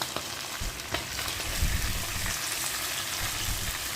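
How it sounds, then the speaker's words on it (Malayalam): Flattened chicken pieces shallow frying in oil give a loud, dense, continuous sizzle with crackling pops, close up and without talk. "പരത്തി വെച്ചിരിക്കുന്ന ചിക്കൻ ഇതിലേക്ക് കുറേശ്ശേറ്റിട്ട് ശാലോ ഫ്രൈ ചെയ്തെടുക്കണം"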